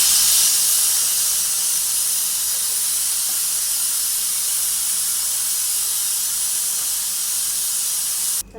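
Oil heats in a kadhai, a continuous, fairly loud hiss that holds steady throughout and cuts off abruptly at the very end.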